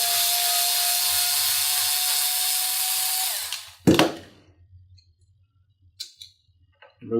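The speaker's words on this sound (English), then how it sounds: "Remove the screw," A power driver removing a screw from a stainless MRH, a loud whirring spin that winds down and stops, followed by a sharp clack and a few faint handling clicks.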